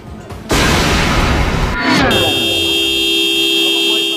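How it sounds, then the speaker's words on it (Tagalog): A long, steady AUV horn blares continuously after a burst of loud impact noise from crashing under a bus, holding one sustained tone to the end. "umalingaw-ngaw ang busina ng AUV na ito"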